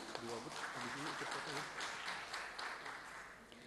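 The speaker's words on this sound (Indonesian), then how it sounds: "Kita berikan tepuk tangan." An audience applauds an award recipient at a PKK team leaders' inauguration ceremony in Jakarta, with dense, steady clapping from a crowd heard faintly, at a distance, behind an amplified voice.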